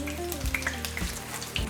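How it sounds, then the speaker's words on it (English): A mung bean pancake sizzles in frying oil in a pan, a steady close crackling hiss with small pops and spatters throughout. "Beautiful, it slides out and it's sizzling nice."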